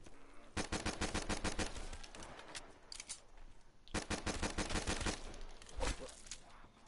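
Rapid automatic gunfire from a first-person shooter match on the Ascension map, two long sustained bursts with short scattered shots between, loud and close.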